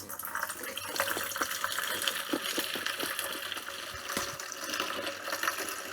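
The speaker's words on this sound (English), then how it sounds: "Let's tip that in, or at least half of it." Wort for a big tropical hop pale ale is tipped in from a vessel, giving a continuous splashing pour close by with scattered drips and gurgles, no talking.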